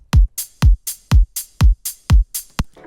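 Punchy electronic drums alternate heavy kicks with bright snare or clap hits in a steady, loud beat.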